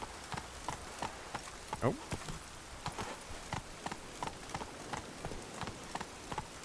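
Hooves of Roach, the horse in The Witcher 3, clopping in a steady rhythm over rain-soaked ground with rain falling around, while a man briefly exclaims over the moving hoofbeats.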